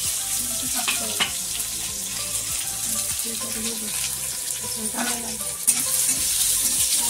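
Cumin and mustard seeds sizzling in hot oil for rava upma: a steady, loud frying hiss with crackles and a few clinks of a utensil, close by, with background voices faintly present.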